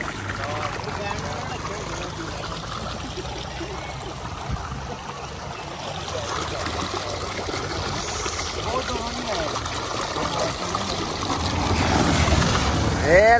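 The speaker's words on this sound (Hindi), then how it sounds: "ये नीचे सारा पानी जा रहा है" Water rushing and flowing somewhere below on a road journey from Haripur Hazara to Chilas, a constant close wash growing louder toward the end, with people talking over it.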